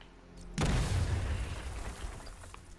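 A wall blown apart by explosive gel in Batman: Arkham Knight erupts in one loud, close boom, and the blast rumble slowly fades over the next two seconds.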